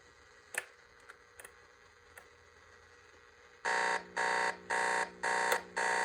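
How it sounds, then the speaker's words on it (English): An alarm sounds during a test at about 7:26 p.m., blaring in five loud, evenly spaced bursts with short gaps between them. A few faint ticks and clicks come before it, and no one speaks. "Let's do an alarm test as well."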